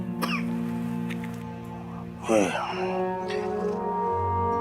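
A single harsh cough bursts out midway over a steady low hum, with faint murmuring around it.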